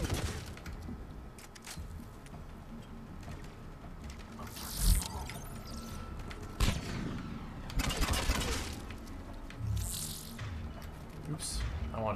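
Gunfire in the video game Mass Effect 3, scattered sharp shots and short bursts popping over a steady battle background, with several louder cracks standing out and a voice talking at times.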